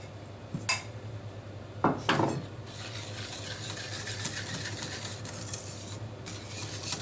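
A utensil stirs chocolate muffin batter with sugar, milk and butter in a bowl: a few sharp clinks against the bowl early on, then a steady soft scraping and swishing, close and fairly quiet, with no voices.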